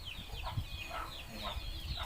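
Chickens near a rural cattle pen give repeated clucking calls at a moderate distance, several short rising calls spaced through the moment over a faint outdoor background.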